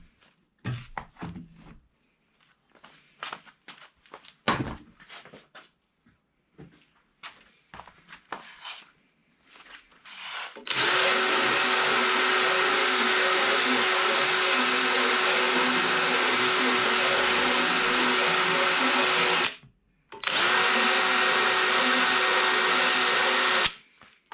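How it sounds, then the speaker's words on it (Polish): A cordless drill with a small milling bit cuts into a front fork leg from a Honda NSR 50 where thick paint blocks the fit. After scattered clanks of handling, a loud steady whine runs for about nine seconds, stops briefly, then resumes. "O, frezik, wkrętarka i wszystko załatwione."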